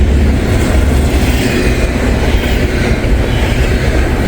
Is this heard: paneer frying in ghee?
no